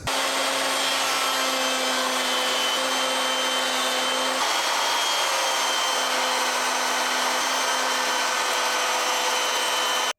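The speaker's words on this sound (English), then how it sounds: "I'm going to use my rabbeting bit at the router table" Steady, loud whine of a router table cutting rabbets in wood with a rabbeting bit, a constant hum running continuously without pause; no voices.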